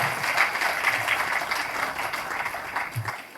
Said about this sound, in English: Please give all of them a resounding round of applause.